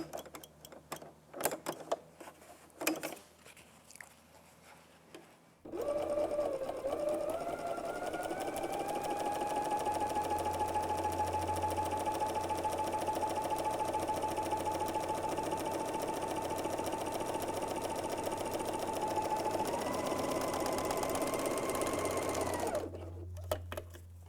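A BERNINA L 660 overlock machine runs a test seam, a continuous, even high-speed whir and rattle lasting nearly twenty seconds, preceded and followed by light clicks and fabric handling.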